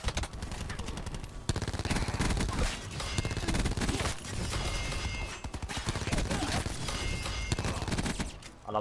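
Sustained automatic gunfire fills a Call of Duty Black Ops 4 match with loud, dense bursts that run almost continuously, broken only by brief gaps.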